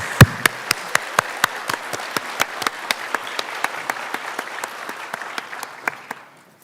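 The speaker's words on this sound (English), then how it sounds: "I want to give you a round of applause." At a School of Nursing pinning ceremony, sparse audience clapping comes as a steady, evenly spaced series of crisp claps, one loud clap near the start, fading out at the end.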